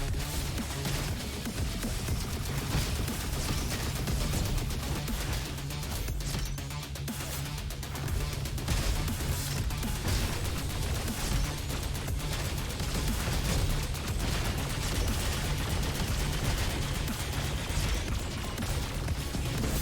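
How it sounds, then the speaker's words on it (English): Rockets and explosions fire nonstop in the robot shooter Roboquest, a dense, loud barrage of blasts and crashes with no break. "it was really easy to get the French fry rocket load combo, meaning I was firing out even more rockets"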